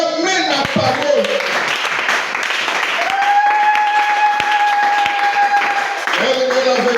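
Church congregation applauding and cheering for several seconds, a steady dense wash of clapping with a sustained sung or organ-like tone entering midway, voices mixed in.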